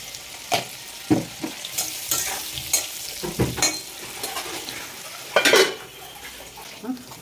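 Potatoes for a paneer dish frying in a pan: a continuous sizzle under repeated scraping and clinking stirs of a utensil against metal, some strokes louder and closer, with no talking.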